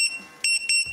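A compressor alarm in an audio drama beeps in short repeated bursts, three sharp electronic tones in quick succession, loud and close with no talk.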